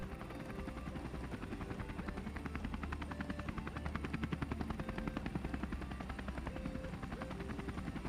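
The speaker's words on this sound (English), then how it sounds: "You get out of the heli, the machine goes away" Helicopter on a snowy mountaintop during a heliboarding drop-off, loud rhythmic rotor chop with a steady engine whine, close and continuous throughout with no talk.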